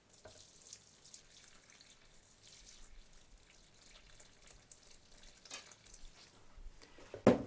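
Liquid soap mixture pouring into a pot during hot-process soap making, a faint watery trickle and splash that builds near the end, close and quiet with no talk.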